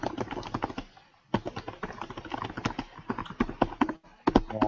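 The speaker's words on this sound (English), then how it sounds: "Typing." Typing on a computer keyboard in a meeting room, rapid clustered key taps in uneven bursts with brief pauses, fairly close and clear, no voices over it.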